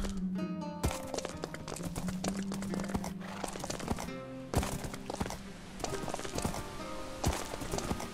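Minecraft horse hooves clopping steadily at close range in a foggy forest setting, a quick irregular walking rhythm with occasional thuds over a busy layered game soundscape.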